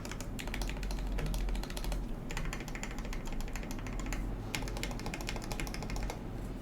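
Steady, dense typing on a mechanical keyboard in an acrylic Tofu65 case, crisp rapid keystrokes running throughout with a constant low hum beneath.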